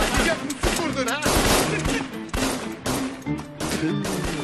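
Rapid bursts of gunfire in a night-time drama scene, loud and repeated across several seconds with brief gaps, close and harsh, with voices faintly mixed in.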